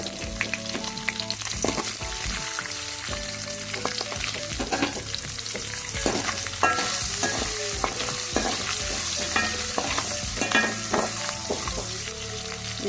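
Eggplant with garlic, curry leaves and asafoetida sautéing in a pan for Tamil-style eggplant rice, a steady close sizzle with repeated scraping stirs and clinks of the spoon throughout, no talking.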